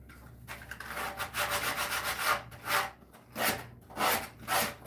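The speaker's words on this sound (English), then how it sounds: "right now I'm just sanding it down, roughing the form up" Sandpaper rubbing over a carved form as it is roughed up, in close, rhythmic strokes that swell and fade in repeated passes, with no voices.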